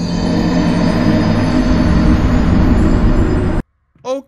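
A loud, close, continuous rumble of a train in the horror puzzle game Last Labyrinth, cutting off abruptly before a brief voice.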